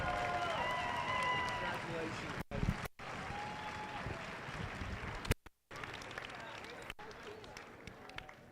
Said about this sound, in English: let's give a huge round of applause to them